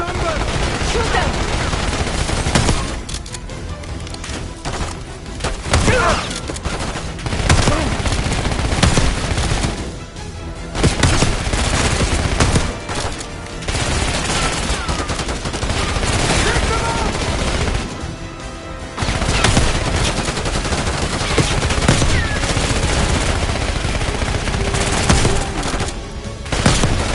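Dense automatic gunfire from the Black Ops 6 video game, loud rattling bursts and fusillades running almost without a break, with shouted voices mixed in.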